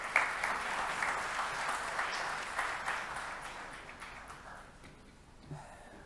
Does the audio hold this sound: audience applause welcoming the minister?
yes